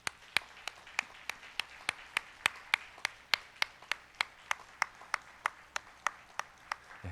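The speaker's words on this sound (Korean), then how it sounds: "여러분들의 그 마음을 담아서 큰 박수로 축복해 주시기를 바랍니다." A church congregation at a deacons' and elders' retirement ceremony claps in slow unison, about three sharp beats per second, steady and evenly spaced throughout.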